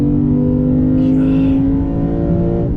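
A 2022 Lexus IS 500 F Sport Performance engine revs hard under acceleration, its steady drone rising in pitch, then easing as the next gear engages; loud and close.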